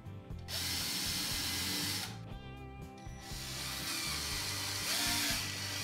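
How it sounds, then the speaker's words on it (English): A power drill pre-drills and drives screws into the wooden fence of a crosscut sled, whining in several close, loud bursts that rev up and stop with brief pauses between. "Then I pre-drilled and added two screws right near the middle."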